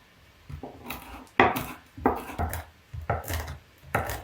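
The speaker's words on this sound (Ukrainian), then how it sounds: "Тепер потрібно дрібненько порізати волоські горіхи." Walnuts finely chopped with a knife on a board, a run of crisp, uneven thuds and crunches in quick bursts, close and fairly loud, with no talk over them.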